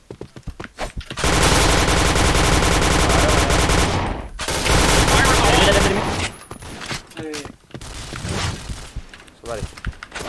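Sustained automatic gunfire from the online shooter Point Blank, dense and loud for several seconds before breaking into scattered shots, with players talking over it.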